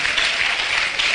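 Church congregation applauding during a Spanish-language sermon, a steady wash of clapping with no break across the short stretch, moderately loud and without speech.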